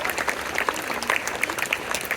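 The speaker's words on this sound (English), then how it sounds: "A big round of applause." An audience at a school event applauds trophy winners in a short burst of close, lively clapping with distinct individual claps.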